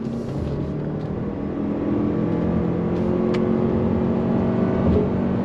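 A 2022 Toyota RAV4 Prime plug-in hybrid SUV accelerates on throttle through a U-turn, a steady engine and road hum building slightly louder, heard from inside the cabin without talk.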